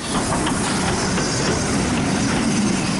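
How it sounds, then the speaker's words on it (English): A train passes through a station on a Scottish line, a loud continuous roar with hiss and faint rhythmic clatter of wheels on rails, close and steady throughout. "trains sail right through the station"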